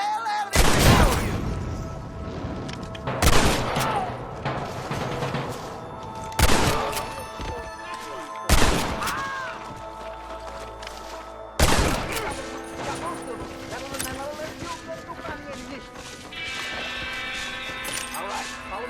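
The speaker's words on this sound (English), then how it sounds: "Let's shoot the hell out of these people!" Gunfire in a video game shootout in Red Dead Redemption, with loud bursts of rapid shots repeating every couple of seconds, each followed by a ringing tail and quieter stretches between, with voices talking in between.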